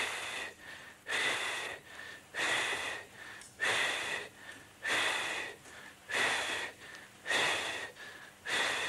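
A small group pushes breath out together in a singing breathing exercise: steady, evenly spaced breathy exhalations, about eight in a row, fairly quiet and close, with no talking.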